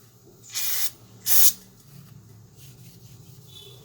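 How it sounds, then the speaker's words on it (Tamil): Two short, loud bursts of Falcon 530 aerosol spray hiss close up as old glue is cleaned off a Samsung J4 Plus phone display, followed by soft rubbing and wiping. "ஃபால்கான் 530 ஸ்ப்ரே வச்சு"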